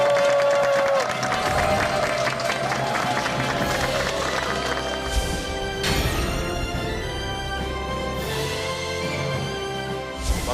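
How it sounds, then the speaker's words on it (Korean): A television studio audience claps and cheers to welcome a guest onto a Korean health talk show. The applause is steady and fairly loud, with a bright musical jingle playing over it throughout. "서동원 원장님을 여러분 박수로 환영해 주십시오."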